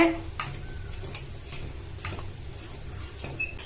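A spoon scrapes and knocks around a pot of thick black urad dal porridge sweetened with palm jaggery, several distinct metallic taps over a low simmering bubble, close and fairly quiet.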